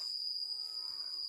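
A faint, low, drawn-out cow moo sounds from a distance beneath a constant high insect whine.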